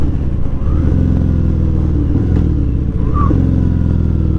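A Harley motorcycle engine idling and revving close by, a loud, steady low-pitched rumble with a slight rise in pitch and a few faint clicks over it.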